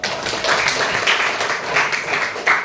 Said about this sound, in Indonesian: Baik, kasih tepuk.